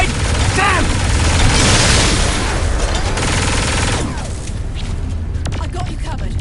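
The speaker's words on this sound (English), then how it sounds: "here's some bonus explosions" Blasts and crackling gunfire rumble through a Saints Row IV firefight, loud and continuous at first, then easing into a thinner rattle of shots.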